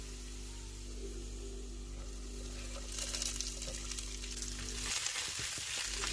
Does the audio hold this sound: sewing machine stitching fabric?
no